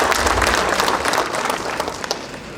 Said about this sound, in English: May we give them a warm round of applause.